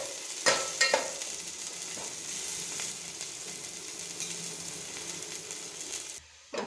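Finely chopped onion frying in a pan for egg curry, an even, close crackling sizzle with a couple of utensil knocks early on, stopping abruptly just before the end.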